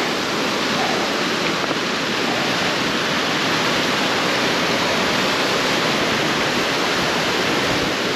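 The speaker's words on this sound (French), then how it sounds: "Là on est au bord d'un ruisseau qui est limite une cascade" Mountain stream in the Ariège Pyrenees, near the Gardelle ponds above Soulcem, tumbling over many rock steps like a cascade: a loud, steady broadband rush of water, close and continuous with no voices.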